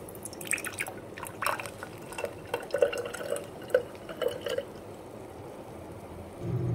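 Blended drink paste straining through a kitchen sieve, with soft irregular drips and small liquid splashes falling into a container below, quiet and close, followed by a louder rush of trickling liquid at the end.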